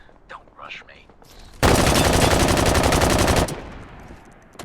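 Shotgun fire in a video game comes as a sudden, loud, continuous roar of rapid shots lasting about two seconds, after faint breathy voice-like sounds, then cuts to quiet background.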